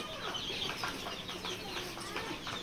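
Chickens clucking in a crowded poultry seller's stall that offers day-old chicks and ducklings, a steady busy chorus of overlapping clucks and chirps at close range with no pauses.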